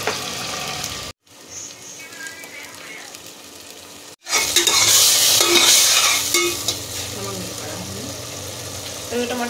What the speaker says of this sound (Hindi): यहाँ पर मैंने डाल दिया सरसों के तेल में प्याज